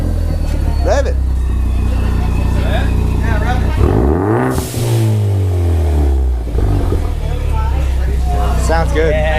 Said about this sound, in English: Rev it